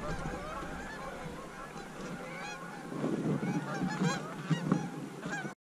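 Geese honk repeatedly through the cold air at a public-land waterfowl hunt in sub-zero polar vortex weather, a flock of overlapping calls at middle distance that grow louder and denser toward the end.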